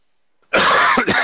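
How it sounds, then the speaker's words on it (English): A single harsh cough burst, close and loud, breaking into a couple of rough, rasping throat-clearing pulses before trailing off. "Could you stop fucking coughing?"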